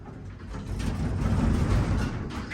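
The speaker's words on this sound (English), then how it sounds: "Those are some rough doors." Doors on a Haughton traction low-rise elevator in the RiverPlace Tower slide shut with a rough, rumbling mechanical grind. It is close and fairly loud and lasts a couple of seconds, with no talking over it.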